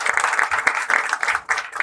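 An audience at a live singing team event claps for the two team owners, a brisk close patter of hands with uneven bursts and no speech over it.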